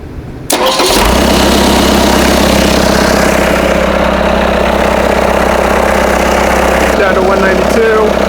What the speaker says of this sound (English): let me start it back up and just let it idle for a minute